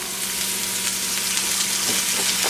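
Scallops stir-fry in oil in a pan over medium heat, a continuous close crackling sizzle with a couple of soft stirring scrapes near the end.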